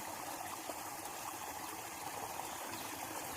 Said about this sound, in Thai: อุ้ยน้ำไหลแรงจังเลย